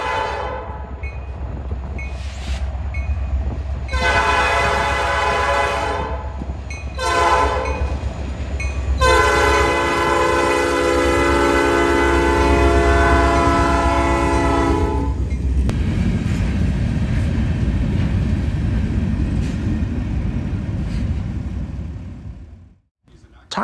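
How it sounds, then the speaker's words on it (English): A Norfolk Southern freight local led by an SD40-2 locomotive rolls past, sounding several loud horn blasts in a broken pattern with a long final blast, then rumbling and clattering steadily before fading. "He's heading back home to Reed Yard in Middletown with an NS SD40-2, which is what they usually primarily use on the locals down here."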